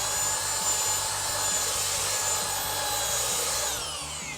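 A power sander runs continuously on a piece of wood, giving a steady buzzing whir with rough abrasive friction, close and fairly loud, fading slightly at the end, with no speech.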